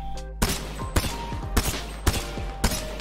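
Five sharp P2020 pistol shots ring out in Apex Legends, evenly spaced about half a second apart, loud and close with short metallic tails over a steady game hum.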